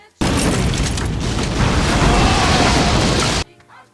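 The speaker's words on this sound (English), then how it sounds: "Now there's just a fucking explosion." A loud explosion from the film Scream 3 bursts in abruptly and roars as one sustained, dense blast of rumble and debris for about three seconds before cutting off sharply.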